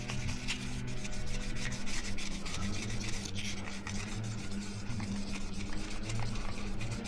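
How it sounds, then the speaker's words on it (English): Wet sanding of a scratched polycarbonate dive case by hand gives a steady, close rubbing scrape in continuous strokes at low to moderate level, with no talk. "So you're not sanding flat, you're sanding round."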